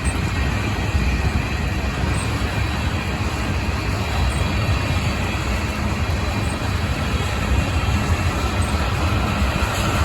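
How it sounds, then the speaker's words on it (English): A Union Pacific Heritage locomotive rolls past close by with a steady, loud roar and rumble of wheels and cars that holds evenly throughout. "That's my favorite Heritage unit on Union Pacific Railroad."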